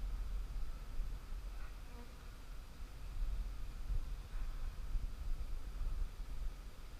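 Bees buzz in a steady, dense drone, many insects at once around a hive, fairly quiet and continuous with a soft background hiss.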